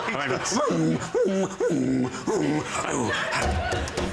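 A voice imitates a big, heavy dog snuffling and grunting, a run of about five rough, wavering vocal yelps and snorts, close and loud, followed by breathy noise and laughter.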